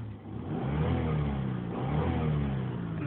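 Engine of a 1997 Acura 3.5RL with 192,000 miles revs in two swells, rising and falling with a muffled mid-pitched drone, moderately loud and steady with no voices.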